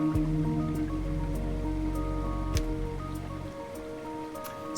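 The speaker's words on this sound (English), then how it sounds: "We got a little bit of rain." Steady rain falls in the strategy game Endzone: A World Apart, a soft even patter spread across the whole clip, laid over a low sustained drone of game music.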